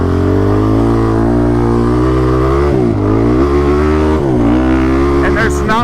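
A fully garage-built race motorcycle engine drones loudly and close while riding on sand with 18-inch tires, a steady buzzing tone with brief dips as the throttle eases.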